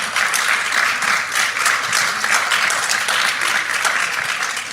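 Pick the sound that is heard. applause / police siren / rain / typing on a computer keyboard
applause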